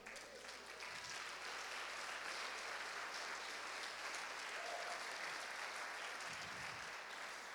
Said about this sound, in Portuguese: Levante sua mão e aplauda o Senhor.